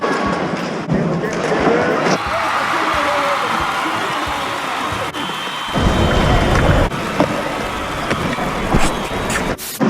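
Steady, heavy rain hisses throughout, close and loud, with rumbling low bursts and occasional sharp knocks beneath it.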